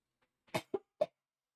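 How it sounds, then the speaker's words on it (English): A person recovering from COVID gives three short, sharp coughs close to the microphone in quick succession, with quiet silence around them. "Sorry, let me just cough for a while,"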